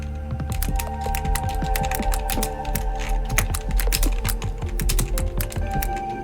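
Rapid, irregular clicking of keys on a computer keyboard, close up and continuous, with no talking.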